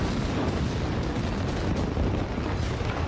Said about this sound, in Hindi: इमारत को धमाके से गिराया गया।